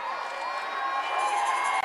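A large crowd at a royal wedding cheers as the Queen waves, producing a dense, steady wash of voices and shouts that fills the moment.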